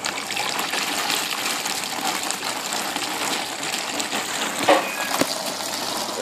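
Water gushing into a Mueller Special washing machine through its manual inlet, a constant rushing stream with a few brief knocks, heard alone without talk.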